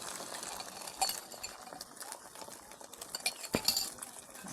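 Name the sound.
stirring egg bhujia in a pan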